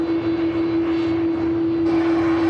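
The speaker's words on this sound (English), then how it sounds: "Starting that second engine up." An aircraft's second engine spools up at Manchester Airport, a steady loud whine with a fixed high tone over a broad rumble that swells slightly partway through.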